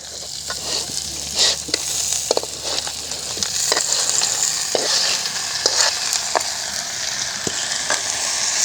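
Crab pieces sauté in a pan for crab curry, with a bright steady sizzle and frequent scraping, clacking stirs throughout.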